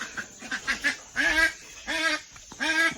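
Ducks and geese at a farm duck shed give repeated nasal honks and quacks, several birds calling in close, loud bursts with short gaps between, and no people talking.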